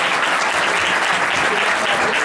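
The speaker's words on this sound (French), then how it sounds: "Je pense qu'on peut applaudir les filles et puis leurs sponsors" Loud, dense clapping from the audience at a tennis club awards evening in Salernes, Var, a steady close wash of applause with no gaps across the whole short stretch.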